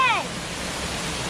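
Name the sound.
waterfall at the zoo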